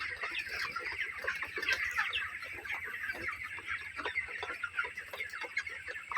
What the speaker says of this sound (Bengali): এখন সব মুরগিগুলো পানি খেতেছে